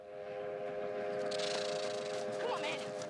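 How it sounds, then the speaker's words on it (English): A train in a film scene, shot from very far away, gives a sustained whistle or horn over a rumbling, noisy background. "that train is very, very far away"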